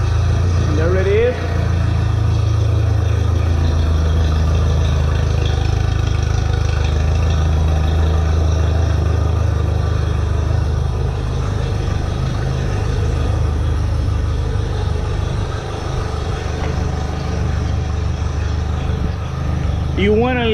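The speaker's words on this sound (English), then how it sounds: "You want to let the motor run for a good 5-10 minutes" An outboard motor idling on a Bass Tracker Classic XL boat, a loud, steady low-pitched rumble throughout, with someone talking over it.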